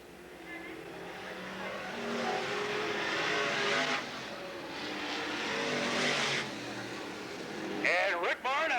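Race cars roaring through a heat race at Riverside Speedway, a dirt oval, engines swelling and fading as the pack passes, heard under a track announcer's commentary.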